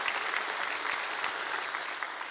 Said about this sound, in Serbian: Jovana Milanov, molim aplauz za ovu lepu devojku